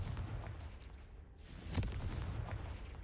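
A Confringo blasting spell cast in Hogwarts Legacy, a single booming explosive burst that rises midway over a low, rumbling game background.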